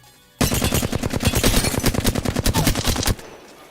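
Rapid hipfire gunfire from a video game erupts in a loud, continuous burst of sharp, closely spaced shots lasting under three seconds, then cuts off abruptly. No one talks over it.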